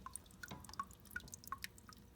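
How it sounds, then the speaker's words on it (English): Water drips and trickles into a newly built aquarium tank with a cliff-cave and waterfall layout as it is filled for the first time. The small drops patter quietly and irregularly, close by, with no voices. "First water fill."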